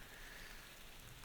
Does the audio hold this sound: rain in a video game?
yes